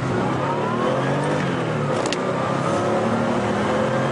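A Porsche 911 Turbo accelerates hard, a loud steady engine roar with rising harmonic tones sweeping upward, heard close from inside or near the car.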